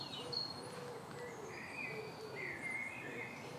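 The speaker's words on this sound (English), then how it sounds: "Just listen for a minute and you can hear all the birds." Birds calling outdoors among silver birch trees: faint, distant hoots and thin chirps over a quiet, steady background hiss, with no voices.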